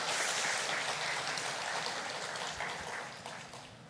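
A crowd at a university chapel service applauding steadily, a dense patter of clapping that slowly fades toward the end.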